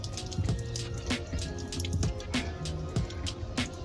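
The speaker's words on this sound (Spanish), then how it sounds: "nos dimos un regaderazo bien a gusto para sacarnos todo el agua salada" A makeshift outdoor shower sends water splashing and dripping in irregular close drops and splats, with a faint steady trickle underneath and no talking.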